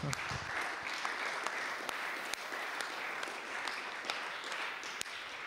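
A conference audience applauds as a panelist comes up to the stage, a continuous bed of clapping at a steady level with a few sharp, louder claps popping out near the microphone.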